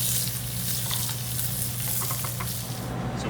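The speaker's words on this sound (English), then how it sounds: "And you don't wanna move the steaks too much, but you can baste it while it cooks." Beef shoulder tender steaks sear in a hot pan with garlic and thyme sprigs, giving a steady, close crackling sizzle with small spits and pops throughout, no voices.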